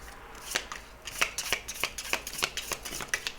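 Tarot cards shuffled by hand in quick, crisp riffles and taps, a rapid uneven rhythm of close, clear card flicks with no voice over them.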